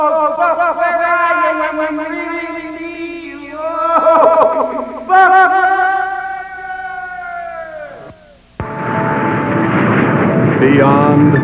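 An airplane goes down in an old sci-fi sound effect. Engine drones whine and dive in pitch in long sweeping waves, then a loud burst of noise follows.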